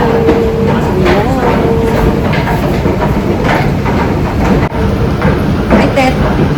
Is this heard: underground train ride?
yes